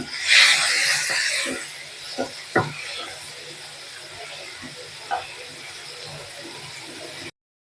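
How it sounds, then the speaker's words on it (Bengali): Chopped onions drop into hot mustard oil for a Bengali tuna curry, giving a loud burst of sizzling hiss that settles into a quieter, steady frying sizzle while a person talks over it. "এবার তেলের মধ্যে দিয়ে দেবো পেঁয়াজ কুচিটা।"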